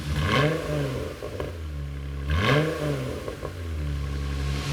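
A Jeep JL fitted with a Valvetronic Designs exhaust revs loudly nearby, with two rising and falling throttle blips over a deep, rumbling idle.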